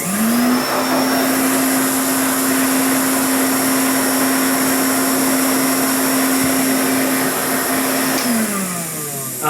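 A Hoover Constellation 867A vacuum cleaner runs loud and steady with a constant motor whine and airy roar, holding one pitch throughout before winding down near the end; no talking.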